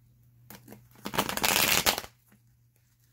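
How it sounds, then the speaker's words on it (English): A deck of cards being shuffled close by, a dense riffling burst of about a second, with a few quieter card flicks before and after. "That was a shitty ass shuffle."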